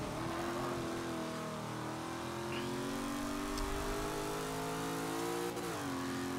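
A Chevrolet Camaro Z28 engine in Forza 5 revs and holds a steady, loud drone, its pitch rising and dipping as the throttle shifts, with no talking over it.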